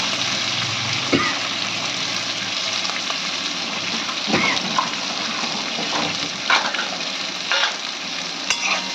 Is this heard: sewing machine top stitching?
no